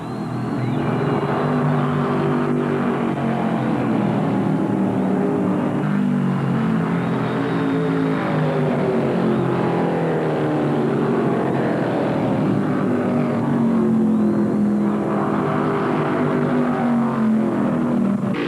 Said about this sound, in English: Pearson is straining every nut and bolt in that Mercury trying to get up to speed.